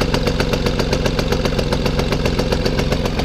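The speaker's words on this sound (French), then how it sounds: "petit démarrage du Solex à la poussette tranquille" A Vélosolex moped's small engine runs steadily after a push start, a loud, close, rapid even putter with a constant buzzing drone throughout.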